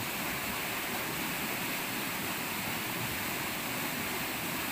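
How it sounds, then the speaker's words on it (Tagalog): Strong rushing water gushing through a forest, a loud, steady broadband roar that holds without pause and drowns out everything else. "Natsambahan talaga namin yung sinasabi nila na bumubulwak talaga yung tubig"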